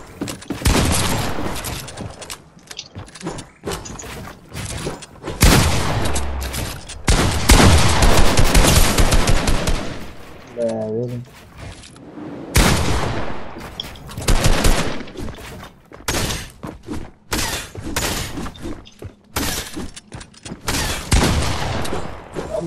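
Gunfire from the video game Fortnite comes in rapid automatic bursts and single cracks, loud and close, separated by brief pauses, with a short electronic tone partway through.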